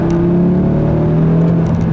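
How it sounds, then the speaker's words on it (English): Steady high turbo whine from the engine of a 2018 Audi RS3 pulling hard through the mid-range, layered over a loud continuous engine drone heard from inside the car. "You even get a little bit of a turbo whine kind of going on there."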